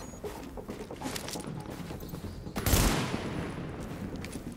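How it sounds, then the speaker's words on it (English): Gunfire in The Division video game: a busy spread of rapid shots with one louder burst near the middle, heard over steady background game noise with no talk. "I'm getting shot at."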